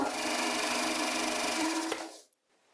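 An old Fisher metal lathe turning at about 250 RPM on a first cut into a test piece gives a steady, close whirring hum with a faint tonal whine for about two seconds, then cuts off and goes quiet.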